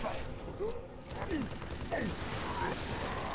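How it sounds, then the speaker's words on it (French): Grenade explosions and gunfire in the video game Halo 3 ODST: a dense, steady wash of distant battle noise, with whistling sweeps and faint clattering under it, and no speech. "Arrêtez avec vos grenades."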